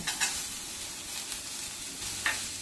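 Cashews sauté in a pan with onion and tomato for shahi matar paneer, making a steady close sizzle with a few light stirring clicks and scrapes.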